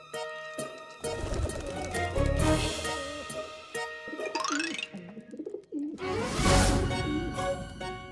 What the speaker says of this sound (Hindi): अरे कबूतरों आओ।